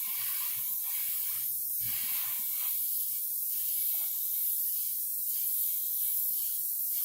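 An airbrush sprays paint at increased flow, giving a steady, close hiss punctuated by short, repeated bursts as the trigger is worked, with no talking.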